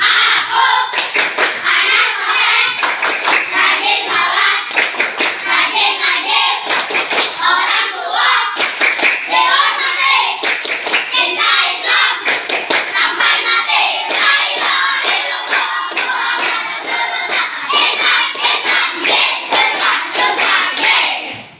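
A group of children performs the rhythmic clapping chant Tepuk anak soleh in an Islamic lesson, with loud, steady bursts of hand claps repeating in a patterned beat for about twenty seconds, and voices chanting along with the claps.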